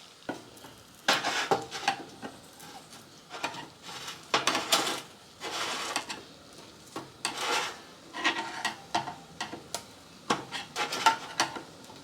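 Automotive paint is mixed and stirred in a paint cup, producing a close, irregular series of scraping, rasping strokes and rubs with short pauses between them.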